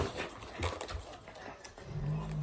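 A dog whimpers and gives soft yips indoors against a noisy background, faint and intermittent, with no clear talk.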